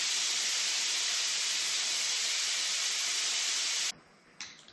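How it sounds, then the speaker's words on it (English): Air hisses steadily out of a Can-Am Ryker Rally motorcycle tire, a loud continuous broadband rush that stops abruptly near the end, followed by a brief faint puff. "You want to make sure all the air is out of your tire."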